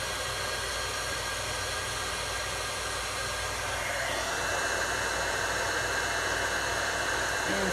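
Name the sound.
embossing heat tool blowing hot air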